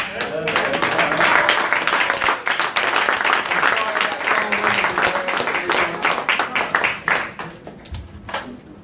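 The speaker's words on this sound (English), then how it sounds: "Let's give our brother another round of applause." An audience applauds loudly and steadily for several seconds at a live talk or seminar, the dense clapping thinning into scattered claps toward the end.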